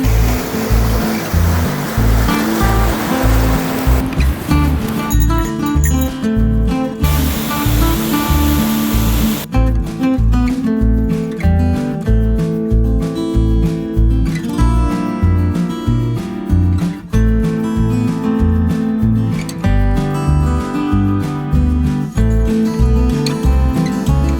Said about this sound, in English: That background noise is the river.